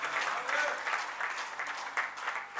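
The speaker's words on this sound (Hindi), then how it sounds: "एक बार जोरदार उन बच्चों के लिए तालियां बजाएं" An audience at a Sanatan Dharma religious gathering claps steadily in a continuous wash of applause, moderately loud and slightly distant.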